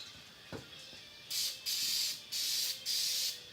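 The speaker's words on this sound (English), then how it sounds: "Spray down the inside." A small knock, then three bursts of aerosol degreaser spray hissing close up inside a part, each lasting about half a second with short pauses between.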